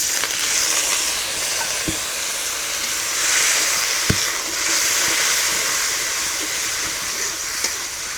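A spice paste with turmeric, salt and a splash of water sizzles and hisses steadily in a pan, with a few sharp spoon knocks against the metal and no one talking.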